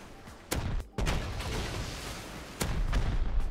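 Rocket launcher blasts in the game Rust: a few sharp, loud bursts spaced across the moment, each a sudden broadband crack standing over a steady rumbling game background.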